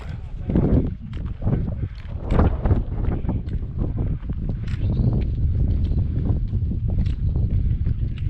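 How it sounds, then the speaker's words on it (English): Wind gusting across a high point on a trail in Bryce Canyon, Utah, buffeting in uneven bursts with low rumbling microphone noise, alongside footsteps and a person talking. "Breezy up here."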